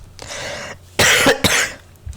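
A person coughs in a few harsh bursts: a breathy rasp first, then two sharp loud coughs close to the microphone, separated by brief quiet gaps.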